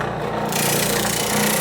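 Wood being sanded or trimmed on a guitar neck headstock, a loud continuous abrasive rasp that grows brighter after the first half second and stays steady to the end.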